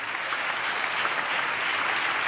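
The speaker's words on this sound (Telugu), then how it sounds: "చప్పట్లు కొడుతూ గట్టిగా స్తోత్రాలు చెప్తాం." Congregation at a church service clapping and cheering in praise, a dense, steady wash of applause close by that holds without pause.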